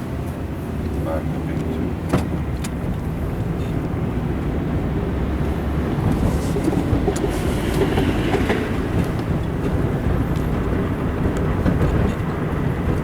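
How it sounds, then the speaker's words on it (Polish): A tram rumbles steadily nearby in Wrocław traffic with continuous low rolling noise and occasional metallic clacks, filling the whole stretch; a voice may speak faintly underneath. "następny tramwaj nadjeżdża"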